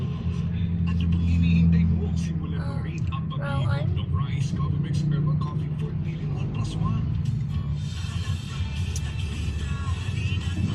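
Car traffic rumbles steadily past near SM Urdaneta mall, a continuous engine drone with passing vehicles, while people talk over it.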